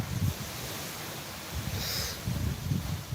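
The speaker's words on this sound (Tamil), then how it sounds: "காற்று சத்தம் கேட்குதா?" Wind blowing outdoors under an open sky, a steady broadband rush with low gusty rumbles that swell and fade in the microphone, with no voices.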